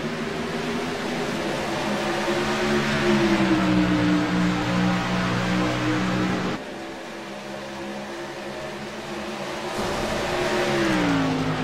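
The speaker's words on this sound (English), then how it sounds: "get his truck straight, and he hits the throttle." A race truck's engine climbs in pitch as it accelerates out of a turn, then drops briefly and rises again, loud and continuous with layered harmonic drone and no talk.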